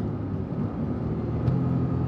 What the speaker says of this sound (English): It was VTEC that kicks in.